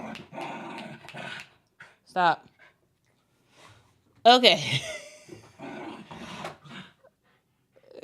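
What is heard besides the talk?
dogs growling while playing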